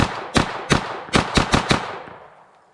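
Six sharp 9mm carbine gunshots fired with a Glock-pattern magazine, loud and close in an uneven rhythm, each crack followed by a short decaying echo that fades out after the last shot.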